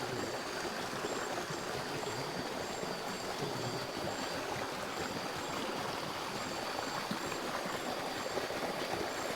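Steady rush of a stream flowing outdoors at a nature campsite during heavy rain, a continuous broadband wash of water with no breaks, close and fairly loud throughout.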